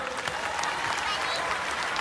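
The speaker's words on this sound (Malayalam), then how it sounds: "ഒരു ശക്തമായ കയ്യടി അദ്ദേഹത്തിന് കൊടുക്കുക." An audience at a Milifestyle Marketing business event in Kerala gives a dense, steady round of clapping, loud and close throughout.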